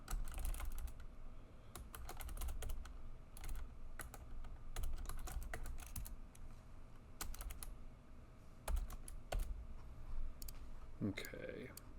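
Rapid, steady typing on a computer keyboard while writing code for an ASP.NET Core MVC shopping cart site, with clustered key clicks running throughout at close range and a voice briefly heard near the end.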